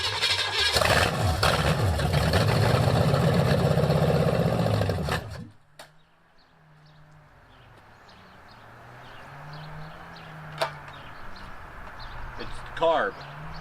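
Abandoned Pontiac 400 V8 engine running rough and loud for about five seconds, then cutting out abruptly, leaving a low idle-like hum, faint clatter and voices.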